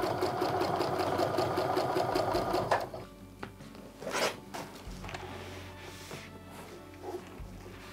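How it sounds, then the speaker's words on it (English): A sewing machine runs fast and steady while stitching a short quilt seam at a quarter-inch stitch, stopping after about three seconds, followed by small handling clicks and rustles of fabric. "I set my sewing machine back to a regular quarter inch stitch from here on out"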